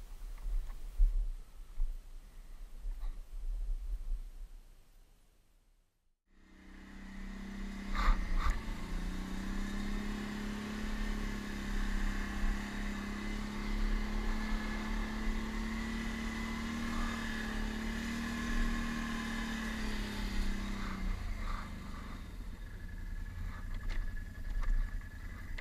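A tracked vehicle pushes off-road through deep snow, its engine a steady mid-pitched drone that starts up after a brief lull and holds strong and close for about twenty seconds with slight surges.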